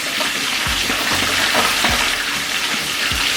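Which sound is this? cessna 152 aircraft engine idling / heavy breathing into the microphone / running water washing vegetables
running water washing vegetables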